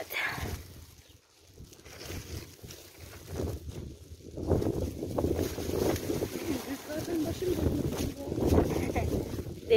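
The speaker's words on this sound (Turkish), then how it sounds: "Rüzgar daha da fazla esiyor." Steady seaside wind buffets the microphone outdoors by the sea, rumbling and gusting throughout while people talk nearby.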